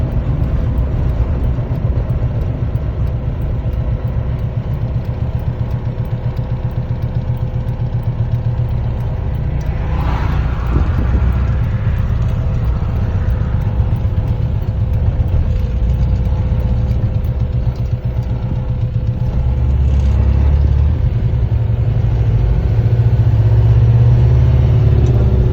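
A 1966 Ford Fairlane fitted with a Cummins diesel engine runs at a steady idle, giving a loud, continuous low rumble that holds for the whole stretch with no voices.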